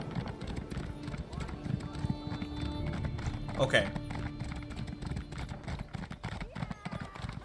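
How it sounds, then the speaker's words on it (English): A horse ridden in Elder Scrolls Online gives a steady run of hoof clip-clops at close range, under a voice talking briefly. "You know what, I'm gonna get on my horse."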